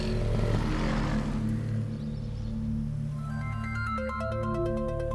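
A mobile phone rings in a tense scene from a Hindi-dubbed South Indian action film, its repeated electronic tones rising over a low, steady rumbling background in the second half.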